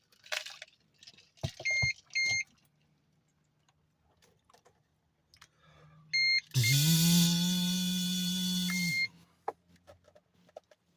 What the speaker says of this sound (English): now you guys hear that little stupid thing beeping at me